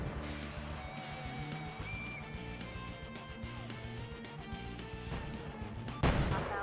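Missile impacts striking the player's drone in the shoot-'em-up Drone Ikuze, dense booming hits layered over busy game music, with a sharp louder burst near the end.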